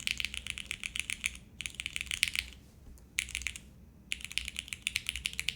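Typing on a TKD Cycle7 custom mechanical keyboard, fast bursts of crisp, clacky keystrokes close up, separated by short pauses, with no speech.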